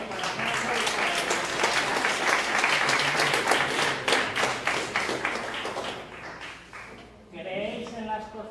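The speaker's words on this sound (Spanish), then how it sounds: "un fuerte aplauso para Nando y para Elena" An audience at a ufology conference breaks into loud, dense applause that runs for several seconds, then fades out as a voice begins speaking.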